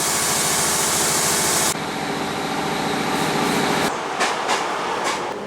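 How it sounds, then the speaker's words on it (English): Train ride home from Cardiff Central, Wales, with a steady loud rumble and rattle of the carriage on the rails, broad engine noise and clickety-clack throughout, shifting in tone partway and with no one talking. "we just got on the train home now"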